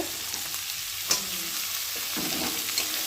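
Vegetables for a vegetarian chow mein fry in a pan with a steady, hissing sizzle and a few soft stirring clinks, close by and without any voices.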